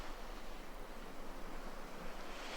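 Ocean surf rolls steadily onto a shore, a continuous broadband wash of breaking waves with a low rumble and no distinct pauses, close and even throughout, with no voices.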